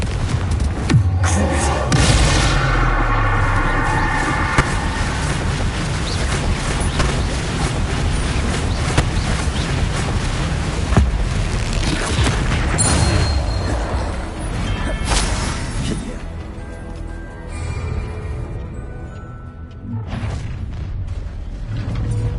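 Confringo explosion spell in the Hogwarts Legacy video game, a loud booming blast with crashing, rumbling debris and mechanical clatter that gradually fades toward the end.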